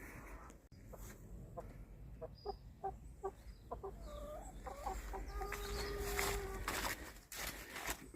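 Chickens cluck in short, repeated bursts with background farmyard noise, some calls rising into brief squawks, moderately close.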